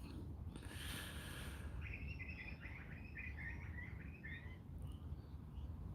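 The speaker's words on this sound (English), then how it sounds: "The Australian birds are so funny." Australian birds calling in a rainy Melbourne morning, a run of bright chirping notes from a tree-lined reserve heard at a moderate distance over steady rain and background noise, with no talking.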